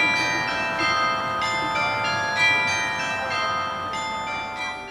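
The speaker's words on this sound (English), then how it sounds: "our 16-bell carillon will ring in the tower to announce your marriage" A 16-bell carillon rings from a chapel tower in a steady run of overlapping chimes. The bright tones strike at an even pace and sustain with a long, rich ring, clear and fairly close.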